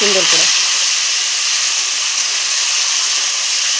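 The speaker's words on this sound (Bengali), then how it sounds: "এখন আমি পেঁয়াজ বাটা আর রসুন বাটাটা দিয়ে দেবো, দিয়ে এখন মশলাটা আমি কষতে থাকবো" Onion and garlic paste hits hot oil, producing a loud, close, continuous sizzling hiss that holds steady throughout, after a brief voice at the very start.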